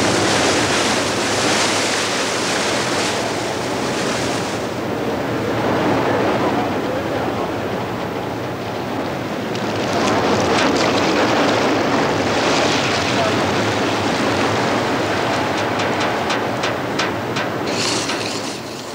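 Heavy sea washes over the deck of a leaking oil tanker in a 1979 towing operation, making a loud, continuous roar and hiss of water and wind that swells and ebbs throughout, with occasional clanks.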